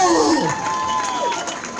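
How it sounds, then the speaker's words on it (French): Spectators cheer and applaud at a trail race in Bouzigues, a dense crowd roar with whoops and shouts, steady and fairly loud, with voices mixed through it. "un tonnerre d'applaudissements"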